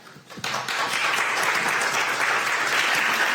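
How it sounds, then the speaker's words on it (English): A crowd applauds, a few claps at first quickly swelling into a full, steady round of clapping that continues throughout. "give him another round of applause because he did such a great job today"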